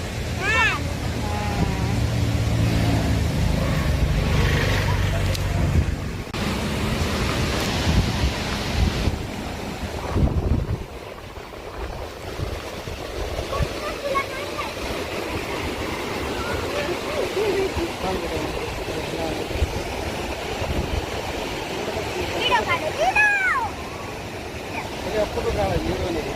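Loud rushing floodwater roars continuously with wind buffeting the microphone; voices talk intermittently over the flow.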